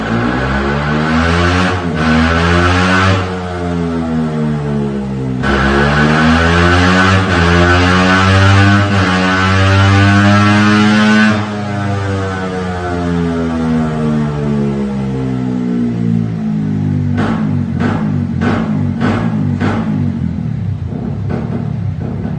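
A fuel-injected Suzuki GSX motorcycle with an aftermarket exhaust runs nearby, loud and alone. Its engine rises and falls through repeated revs, then settles into a rougher, lower drone broken by short sharp pops toward the end.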